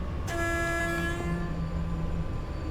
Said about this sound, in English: And the AWS system blew the horn.